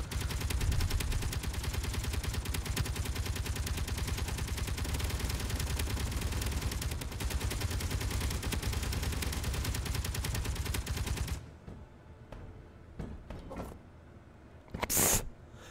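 A turret in the Space Engineers game fires a long, loud, dense stream of rapid shots that cuts off abruptly, leaving quieter ambient sounds and a brief late burst.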